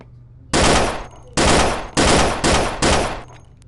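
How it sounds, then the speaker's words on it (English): Bren Mark II machine gun fired in the VR game Gun Club VR, five loud sustained automatic bursts in quick succession, each roughly half a second to a second long, with brief gaps between them. "So that is the Bren Mark II."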